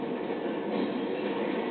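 An Amtrak train running on electrified rails, a steady mid-range rumble of rolling wheels and car noise, fairly quiet and even throughout, with no voices.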